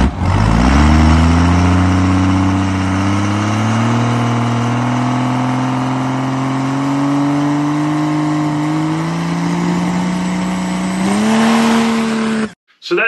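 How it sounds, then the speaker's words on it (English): Car held on the foot brake at full throttle in third gear on a glued surface, the engine droning loud and near as its pitch climbs slowly and steadily before cutting off abruptly at the end. "a little bit of glue, third gear, spooling up on the foot brake with full throttle control"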